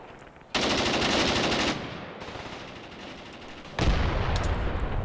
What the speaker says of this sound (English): Just occasionally laying into the enemy with the MG34.